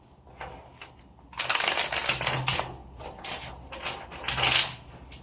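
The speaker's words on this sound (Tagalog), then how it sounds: "So, shuffle ko na rin ito, pero balasahin na natin ulit." A deck of tarot cards is shuffled in quick riffling bursts, a dense papery clatter that rises for about a second and then returns in shorter flurries, close and fairly loud.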